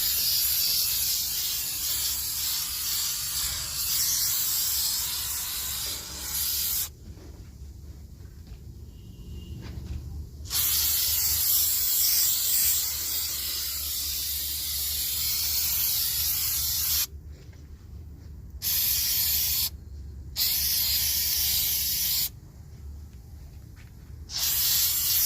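Degreaser sprayed over a dirty car engine in repeated long hissing bursts, broken by short pauses, close and fairly loud.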